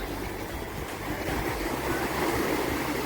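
Surf washes steadily onto a wide sandy beach in Malta, a continuous broad roar of breaking waves mixed with wind buffeting the microphone, with no voices.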